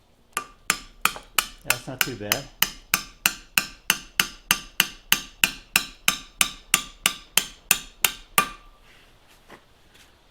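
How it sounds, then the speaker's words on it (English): About twenty sharp metallic hammer taps on a stuck engine valve of a 1942 Allis Chalmers B tractor, in a steady, rapid rhythm, close and loud, with a brief spoken remark partway through before the taps stop. "see if I can tap that out of there. I got a hammer right here."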